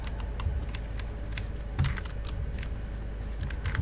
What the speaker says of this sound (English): if you guys can't hear the keyboard clacking